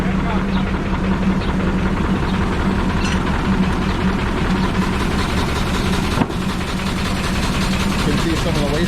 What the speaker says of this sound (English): Here we have a Case steam engine powering a sawmill.